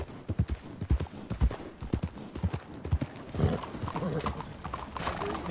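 Horse hooves in the video game Red Dead Redemption 2 clop in an irregular trotting rhythm at close range, with a faint whinny and some background noise.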